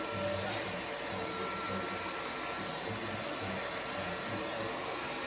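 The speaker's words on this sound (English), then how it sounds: "So the arm sticking out right now." A Mova P10 Pro Ultra robot vacuum-mop hums at a constant broadband drone as its side arm extends toward the wall, steady and close, with no voices.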